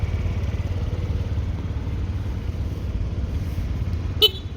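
A Yamaha Gear UA08J cargo scooter with fuel injection: a short, sharp horn toot sounds once near the end over a steady idling engine rumble.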